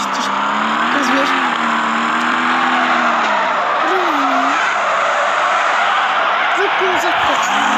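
A car's tires squeal in one long sustained screech over a roaring engine, loud and close, with wavering pitch throughout.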